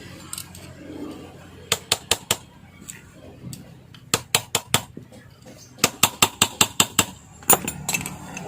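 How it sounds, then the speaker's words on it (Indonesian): Sharp metallic hammer taps on parts of a Butterfly sewing machine during reassembly, landing in quick bursts of three to six evenly spaced knocks, close and loud, with brief pauses between groups. "Kita kencangin dulu pakai penokok, pakai palu"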